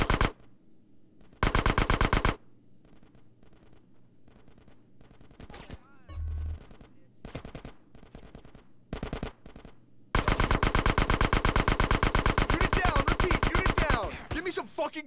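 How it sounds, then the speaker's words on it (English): Gunfire in the video game GTA San Andreas during a gang shootout: sustained automatic bursts and scattered single shots, loud and close, with talk at times under the firing. "Get some suppressing fire in there."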